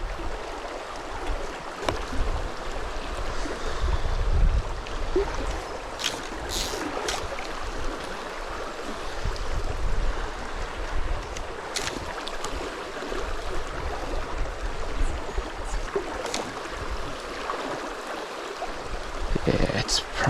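Fast-flowing trout stream water in north-east Victoria rushes continuously in a broad, steady wash, close and moderately loud, with brief splashes and occasional voices beneath.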